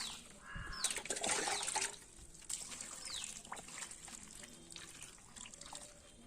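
Water pours and splashes onto soil sown with coriander seed in a short burst, with faint birdsong in the background and quieter trickling afterward.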